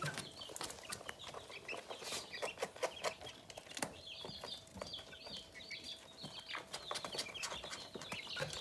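Young chickens, a cockerel and pullets, clucking and chattering close by in repeated soft bursts, with scratching and small movements around them and no talk.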